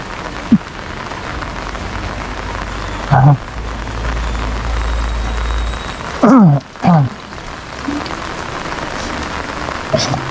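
Steady rain pours outdoors during a walk, a dense constant hiss with low rumbling patches, while a voice briefly cuts in a few times.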